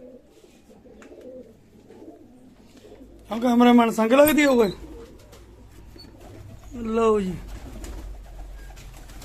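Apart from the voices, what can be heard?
pigeons cooing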